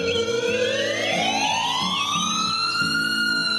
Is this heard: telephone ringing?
no